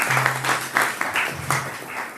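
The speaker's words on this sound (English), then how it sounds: "We applaud you too." Moderate applause from a church congregation on Father's Day, clapping in uneven surges over a couple of seconds, with a voice speaking briefly over it.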